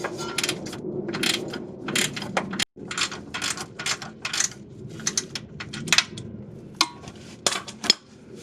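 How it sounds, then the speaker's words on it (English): Long-handle ratchet clicking and clanking on a tight steering rack bolt of a 2004 Honda Pilot, a series of close metallic clicks and knocks in uneven bursts with a brief dropout. "Have a long handle ratchet because this is on pretty tight."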